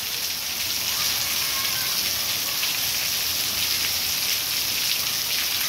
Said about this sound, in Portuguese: Olha que chuva forte.